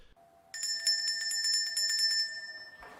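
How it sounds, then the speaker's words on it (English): A hand bell, rung to train magpies outdoors, gives a quick run of bright, close metallic rings that go on for about two seconds and then fade. "I ring this bell every time it eats"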